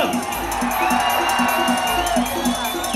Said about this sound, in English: So all the men, let me hear them make some noise!